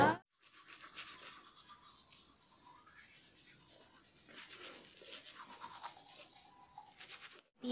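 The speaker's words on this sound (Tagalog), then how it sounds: "Ipapakita ko dito yung video na nag-toothbrush ako." Teeth being brushed with a toothbrush late at night at home, a steady close scrubbing and rubbing that runs almost the whole time with brief pauses, no talking.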